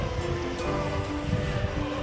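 A strong gust roars past the microphone as light rain begins, a loud continuous rushing wash with buffeting low rumble and no talk.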